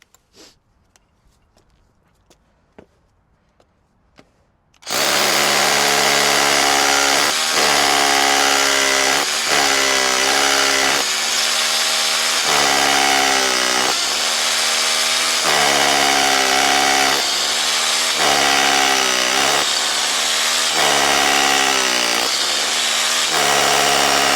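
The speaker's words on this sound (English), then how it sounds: "So the 10 mil bit had no problem here busting through this brick." A loud, steady roar of a Makita DHR263Z cordless SDS hammer drill with a 10 mm bit boring into brick starts after a quiet opening and runs continuously with a rough, pulsing grind.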